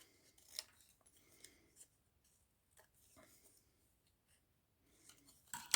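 Paper edges are bevelled for a winter scrapbook mini album, making a few short, soft snips and scrapes close by, spaced out with quiet gaps between them.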